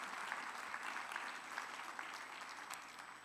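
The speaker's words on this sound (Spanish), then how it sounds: "Dale un fuerte aplauso a Él" Applause from a church congregation celebrating Jesus Christ, steady and even clapping spread across a moderately distant crowd for the whole stretch, with no voices above it.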